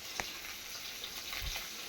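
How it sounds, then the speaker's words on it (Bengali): Fish frying in a pan in a home kitchen gives a faint, steady sizzle with a few soft crackles and pops, heard alone at a low level. "আর এদিকে কি মাছ ভাজা হচ্ছে?"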